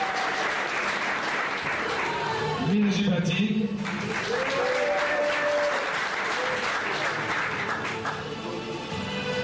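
Applause from an audience at a training course ceremony in Sousse, a dense sustained patter of clapping with a voice speaking over it and brief vocal calls mid-way.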